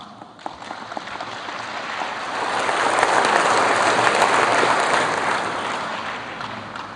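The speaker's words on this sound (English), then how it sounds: "Your applause went well ahead of its realization." Audience applause fills a roundtable forum on Philippine economic legislation, a dense, even clatter of many hands that swells after two seconds and holds steady for about seven seconds.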